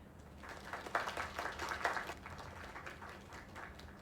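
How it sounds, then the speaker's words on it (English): An audience breaks into applause, a lively patch of clapping that peaks early and then tapers off, heard from a moderate distance with a faint voice underneath. "Another round of applause."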